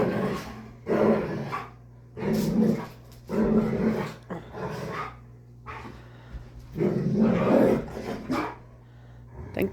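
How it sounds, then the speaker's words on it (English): Puppies growling, yipping and barking in play, in repeated short bursts separated by brief quiet gaps over a low steady hum. "Oh, puppies."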